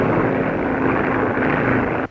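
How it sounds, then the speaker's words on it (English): An airplane drones overhead as a loud, steady, broad roar that holds evenly, then drops off sharply at the very end. "Can't you hear that plane?"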